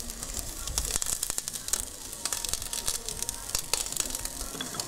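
Paella with mussels bubbling in a wide pan, giving a steady, close sizzle full of dense crackles and pops that carries on unbroken throughout.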